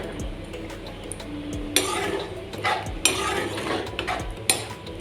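Potato curry being stirred and mixed in a pot with a spoon after a little water is added, giving intermittent scraping and metallic clinks against the pot, several sharp knocks and a soft background sizzle.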